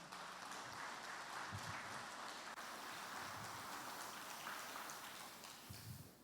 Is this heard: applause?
yes